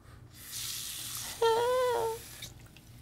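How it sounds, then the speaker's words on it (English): Water running from a tap, a short hissing stream that starts and stops within a few seconds, heard alone with a brief tonal whine over it. "You even have working water here!"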